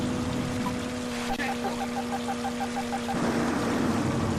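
Rain and car tyres splashing through water in the Amiga racing game Lotus Turbo Challenge 2, a steady hissing wash under a droning engine tone with a short run of rhythmic blips.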